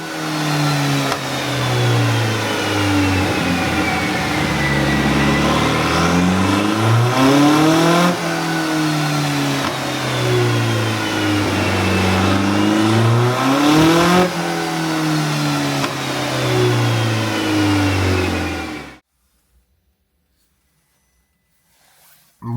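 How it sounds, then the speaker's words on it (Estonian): A Mitsubishi Lancer Evo 10 rally car engine revs loudly and repeatedly on a dyno, pitch climbing and falling in long sweeps with a high whine on top, before cutting off into silence. "ma hüppan sisse ja hakkan paarutama"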